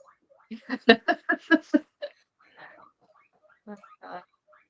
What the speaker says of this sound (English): She's loud. Very loud. That's why I thought it was a bird. No, she's just a little guinea pig.